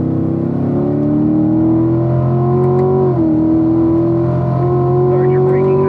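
A car on a race track accelerates hard with a loud, sustained engine drone whose pitch climbs steadily, briefly dips at a gear change up to fifth, then keeps rising. An instructor's voice talks over it.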